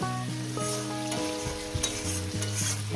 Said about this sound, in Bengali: তিন চার মিনিট ধরে আলুটাকে ভেজে নেব